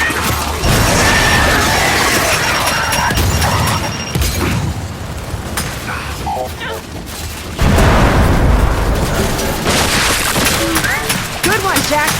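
Turrets in Gears 5 fire amid loud, continuous mechanical clatter and booming gunfire, dense and close throughout, with shouted voices breaking through the battle noise.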